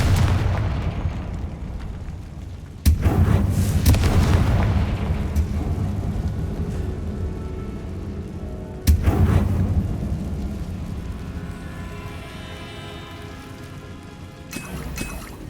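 Confringo fire spell blasts in Hogwarts Legacy, two sharp booming explosions several seconds apart, each with a long rumbling fiery tail, followed by a smaller burst near the end.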